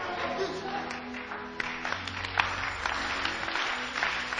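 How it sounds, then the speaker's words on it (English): Church congregation clapping during a Ghanaian pastor's sermon, a steady, continuous wash of hands with a busy, reverberant crowd behind it and a few sharper accents. "you are not clapping your hands better"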